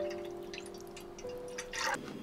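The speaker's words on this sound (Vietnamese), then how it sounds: "Bây giờ mình cho vào nồi 700ml nước mắm" Fish sauce pouring into a cooking pot, a quiet steady liquid trickle with a brief louder splash near the end, with no voices.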